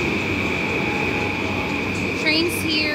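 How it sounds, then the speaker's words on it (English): A Tokyo commuter train pulls into a station: a steady close rumble and electric whine fill the platform, with a brief high wheel squeal near the end. "Train's here."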